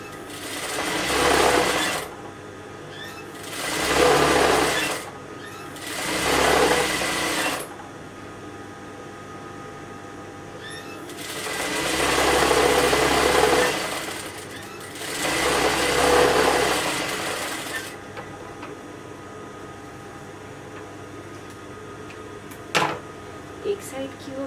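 A sewing machine stitches trouser seams along marked lines, running in five distinct bursts of steady whirring separated by short quiet pauses, with a few small knocks near the end.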